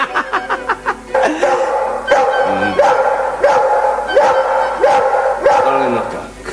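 A dog, cast as a devil's hound in a Czech fairy-tale film, barks in loud, sharp bursts: a quick run of yips, then repeated deeper barks and whimpering yelps, close and forceful.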